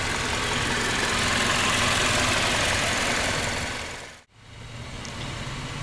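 The 2018 Buick Regal TourX's 2.0 L turbocharged inline four-cylinder runs steadily with a dense, even hum, then cuts to a sudden brief dip before resuming at a lower level, with no talk.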